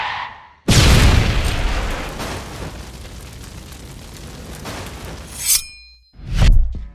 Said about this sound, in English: this stylized car explosion logo reveal I worked on